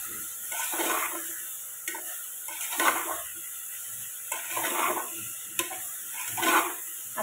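A spoon stirs a cabbage and rice mixture for masala bhat in a pot, making a series of soft, rhythmic swishing scrapes at a close, even pace.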